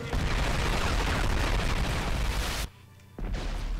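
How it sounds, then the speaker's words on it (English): A massive explosion mixed with gunfire in the war video game Homefront, a loud dense blast and rattle running continuously before cutting out abruptly, then resuming briefly at the end. "Massive explosion!"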